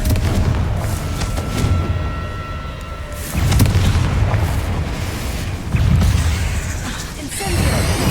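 Blasting Confringo spells explode in Hogwarts Legacy, several heavy booms arriving a few seconds apart, each a loud low burst with a rumbling tail, over a steady game backdrop with some talk.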